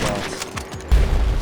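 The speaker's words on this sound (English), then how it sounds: "try to use this method where you can fast spam the sniper" Rapid sniper rifle fire in the video game GTA Online, a fast burst of shots with a loud heavy blast near the end, heard alone without talk.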